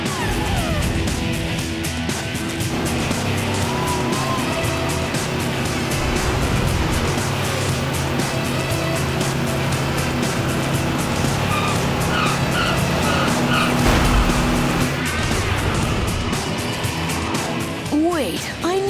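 Cars racing late at night, with repeated tire squeals and skidding over revving engines and a brief crash-like burst near the end; characters talk over the action in an animated show.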